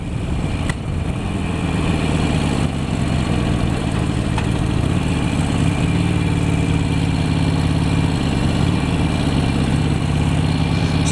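Motorcycle engine droning steadily during a night ride home, a continuous low, close rumble with mild wind noise and no talking.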